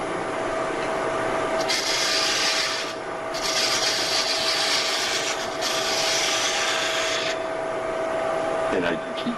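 A woodturning tool rounds over a spinning wood workpiece on a lathe, producing a continuous dry scraping rasp that swells and eases in long strokes, with faint talk in the background.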